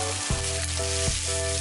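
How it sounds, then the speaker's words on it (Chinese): Pork tripe strips are stir-fried over high heat in a wok before stem lettuce goes in. Dense, close sizzling is punctuated by three quick scraping tosses of the spatula, with no speech. "大火爆炒1分钟后加莴笋"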